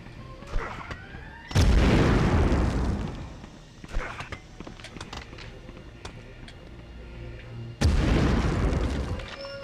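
A grenade explodes in the PS1 game Medal of Honor, a loud booming blast followed later by a second heavy burst, with smaller pops and game effects between them.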